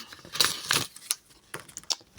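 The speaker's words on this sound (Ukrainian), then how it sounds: "Не хочу зірвати пакетик, але придеться." A paper packet is torn and handled at close range, several crisp rips and crinkles arriving in bursts with short pauses between them.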